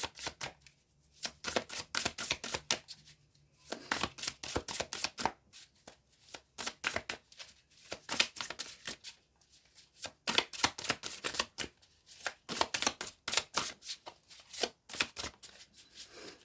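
Oracle cards shuffled by hand for a tarot-style reading, a fast papery riffle repeating in bursts with short pauses between, close and moderately loud, with no talking.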